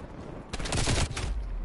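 A burst of rapid AK rifle fire in a video game, a loud dense crackling volley lasting about half a second before fading, with no talk over it.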